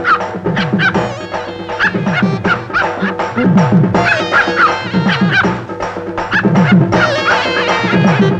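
A dog yips and whimpers repeatedly in short, excited bursts over a loud, busy background with music, fairly close and continuous throughout.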